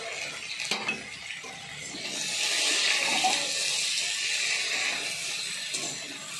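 Water poured into a cooking pan while making a spicy puti fish curry, a broad hissing splash that swells midway and trails off, with a couple of faint clinks and no talk.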